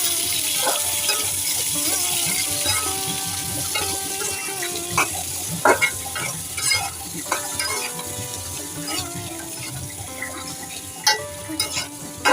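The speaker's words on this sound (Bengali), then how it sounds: "এভাবে আলুগুলা সব পেঁয়াজ মরিচের সঙ্গে ভেজে নিতে হবে।" Potatoes fry with onion and green chili in a pan, giving a steady background sizzle. Scattered clinks and scrapes of stirring break through it at irregular intervals.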